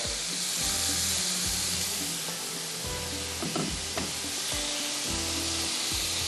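Whole chillies drop into hot oil for yakhni pulao and sizzle loudly and steadily at close range, a dense crackling fry with a few sharper pops and spits, and no voices.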